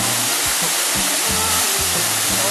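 A deep-tiered waterfall on a forest stream rushes in a steady, loud, broad roar that fills the whole scene, with no voices over it.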